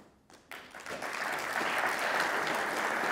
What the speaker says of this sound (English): y'all ain't have to clap for this shit.